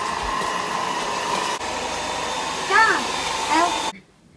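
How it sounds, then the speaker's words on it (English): An Orfeld cordless stick vacuum cleaner runs with a steady motor whine close by, its pitch dipping briefly partway through before it switches off near the end; a voice rises over it. "is that vacuum way lighter to use?"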